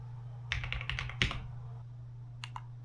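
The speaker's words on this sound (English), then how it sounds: "It has a few extra programmable keys compared to my current keyboard." Typing on a new computer keyboard that has extra programmable keys: a quick flurry of close, crisp key clicks, a pause, then a few scattered single keystrokes over a steady low hum.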